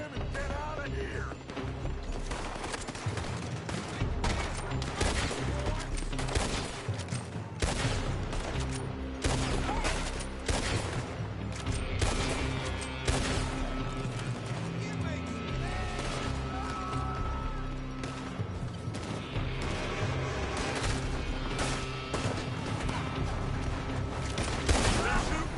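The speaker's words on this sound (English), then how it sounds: "They're shooting from that building." Shootout in a Red Dead Redemption 2 story mission, with enemies firing from a building: relentless loud volleys of gunshots, with crashes and clattering mechanisms, and voices occasionally shouting over the din.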